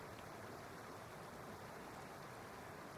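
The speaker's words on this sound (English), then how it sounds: "There are waterfalls all around you, leading into a crystal blue lagoon where multicolored fish dart through the water." Steady rushing water of a waterfall pouring into a lagoon, a soft, continuous wash of noise with no voices, faint and even throughout.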